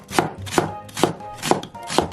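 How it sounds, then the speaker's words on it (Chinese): A kitchen knife chopping through an onion on a cutting board, five crisp evenly spaced thuds about half a second apart, close and clear with no talking. "咱们把这个洋葱再给它切一个"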